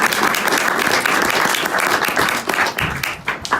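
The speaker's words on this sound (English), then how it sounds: "So a big round of applause," An audience at a design Q&A in Norwich gives a warm round of applause for a panel after a documentary screening, loud dense clapping that thins and tapers near the end.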